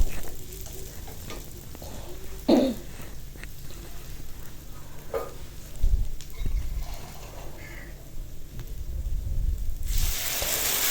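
A spice paste for a goat liver curry sizzles in a pan, with a few stirring clanks, then a sudden loud hiss near the end as water is poured in.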